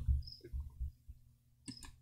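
A computer mouse gives a few soft, close clicks, with a brief crisp click near the end against a quiet low hum.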